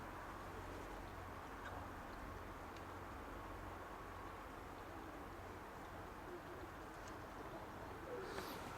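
Soft, repeated pigeon coos sit low in a quiet outdoor background, with a brief flutter or rustle near the end.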